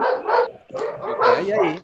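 A dog barks close by during a talk on behaviour-based road safety, giving a few short, yappy barks with a brief gap between them, mixed in with the sound of the meeting.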